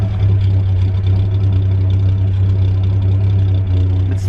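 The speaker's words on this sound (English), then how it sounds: "It's idling at probably 800 right now, so it's a little on the high side, but rather that than stall it" A car engine idles steadily at about 800 rpm after tuning, a smooth, continuous low hum close by with no talking.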